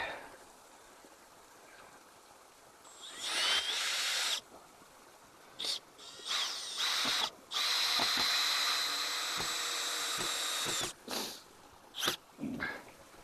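Power drill driving screws into timber during a solo bridge build in the woods, several separate bursts of high whining and grinding of varying length with quiet gaps between, fairly close.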